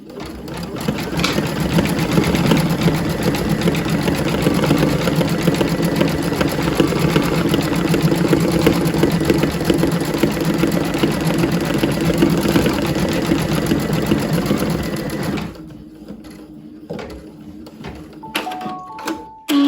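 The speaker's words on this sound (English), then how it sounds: "I'm going to hit the plus on the reel and just jump to the blanket stitch. Put the foot down and go." A Brother V5LE embroidery machine stitches a blanket stitch for appliqué, a steady, close mechanical whir and rapid needle chatter running continuously for about fifteen seconds before stopping, followed by a few faint clicks.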